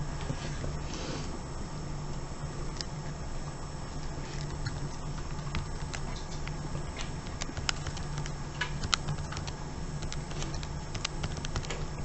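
Number keys tapped on a calculator or keyboard to work out a discriminant, a run of light irregular clicks over a steady background hum, close and fairly quiet, with no talking.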